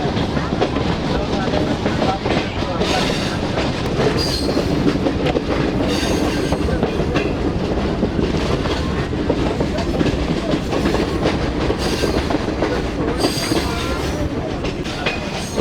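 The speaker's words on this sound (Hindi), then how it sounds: "ब्रेक लग गए हैं और ट्रैक भी चेंज हो गया है" Passenger train on the Rawalpindi to Havelian line braking and crossing onto another track, with a steady loud rumble of wheels on rail, rhythmic clatter and faint squeals throughout.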